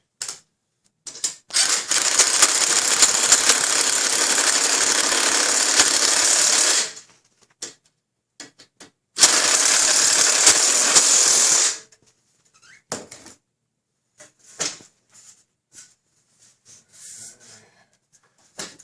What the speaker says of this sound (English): My drill. These come in very handy.